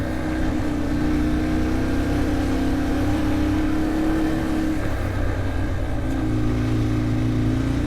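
A motorcycle engine drones steadily while riding, with a continuous loud rumble and wind noise and no voices.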